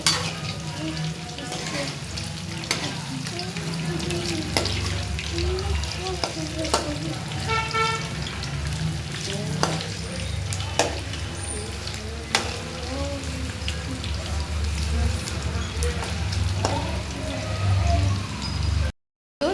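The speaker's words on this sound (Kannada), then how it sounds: "ನೋಡಿ ಎಷ್ಟು ಚೆನ್ನಾಗಿ ಫ್ರೈ ಆಗಿದೆ ನೋಡಿ" Cauliflower pakoda fritters deep-frying in hot oil, a steady dense sizzle running throughout with occasional scrapes of turning them, ending abruptly in silence.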